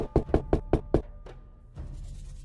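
Five sharp knocks on a door in quick, even succession, loud and close, followed by a pause and then a low rumbling background.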